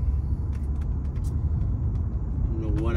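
A 1989 Mercedes-Benz 300SE cruises along the road with a steady low rumble of engine and tyre noise, and a brief whine rises near the end.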